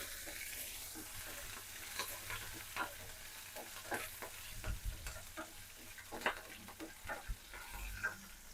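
Green chillies sizzle softly in a pan while a spoon stirs them, with repeated scraping clicks and taps at an irregular rhythm over a quiet frying hiss.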